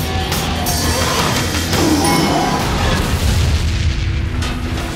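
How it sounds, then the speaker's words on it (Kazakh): A grenade explodes under a monster in a Mars-set sci-fi horror film, a loud, sustained rumbling blast with crashing debris filling the whole stretch without pause. "Ал құбыжық оны жерге құлатқанда білдірмей граната қойып кетеді. Оның үстіне түскен құбыжық тас талқаны шығып жарылады."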